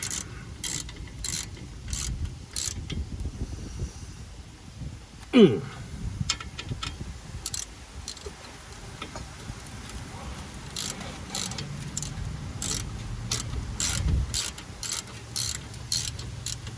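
A ratchet clicks in quick repeated bursts while tightening bolts during a brake and rotor job on a 2012 Toyota Sienna, close and sharp over garage background noise and occasional talk.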